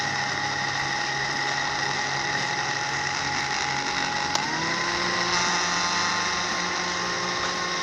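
An electric mixer whipping pound cake batter until frothy: a steady motor whine with a constant pitch that shifts slightly partway through, droning close and even throughout with no speech.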